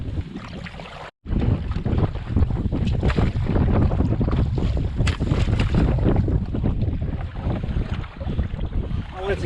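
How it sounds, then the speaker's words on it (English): A strong headwind roars across the microphone while a canoe is paddled on a Nova Scotia lake, a loud continuous gusting rush with water splashing beneath it and a brief cutout near the start. "Well, it's a headwind, but certainly not the worst one I've ever had to fight."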